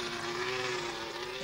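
A turbocharged Renault Formula One car engine holds a steady high drone with a strong tonal whine, loud and continuous for the whole short stretch, with no voices.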